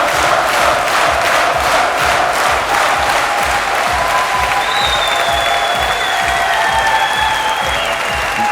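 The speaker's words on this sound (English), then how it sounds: "the crowd are loving it" A large esports crowd at the Dreamhack Summer 2011 final applauds and cheers the new champion, a loud, sustained wave of rapid clapping with whistles and shouts over it.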